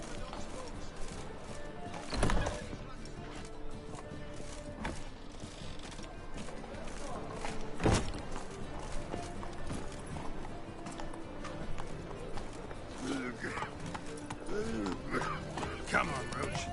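Roach the horse clip-clops along in The Witcher game, steady hoofbeats with an occasional whinny under spoken dialogue and background game music.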